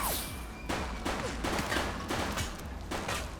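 Video game police officers fire on a fleeing suspect, a burst of several loud gunshots cracking out close by at an uneven pace across a few seconds, with no talking.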